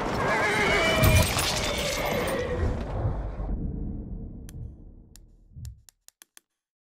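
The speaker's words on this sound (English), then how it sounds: "There's an enemy horse rider!" A horse whinnies amid loud battlefield noise in the World War I shooter Battlefield 1, the clamor fading out before a few sharp clicks at the end.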